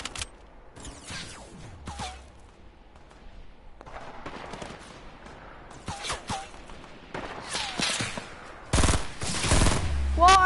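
Sniper rifle shots in a video game, several sharp loud cracks spaced irregularly with quieter game noise between them and people talking over the action.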